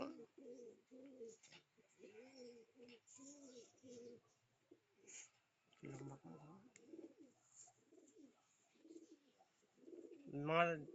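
Pigeons coo in low throaty bursts at close range in a home loft keeping pairs of Punjab pigeons, alternating with quiet stretches and someone talking nearby.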